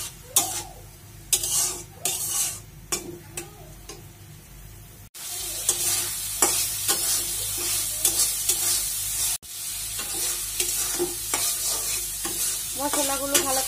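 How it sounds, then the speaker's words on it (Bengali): Spices and chili powder stir-fried in oil for a sweet potato leaf curry, with a loud continuous sizzle and repeated scraping stirs of a spatula against the pan, close and steady. "তারপর দিয়ে দিলাম সামান্য পরিমাণ মরিচের গুঁড়া মশলার সাথে ভালো করে কষিয়ে নিব"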